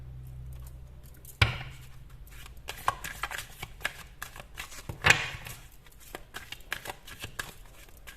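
Tarot cards are shuffled in soft, quiet riffles with a few sharper clicks and snaps scattered through the steady low rustle.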